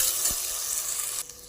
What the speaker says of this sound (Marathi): टोमॅटो चांगला परतून घेऊ.